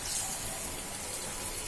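Coriander leaves being washed in water in a kitchen, a steady close rush of running or sloshing water with no pauses.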